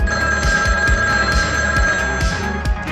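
A telephone bell rings over a noisy shortwave radio broadcast, a steady trilling tone with rhythmic pulses, heard through hiss and a low throbbing hum, with no voices.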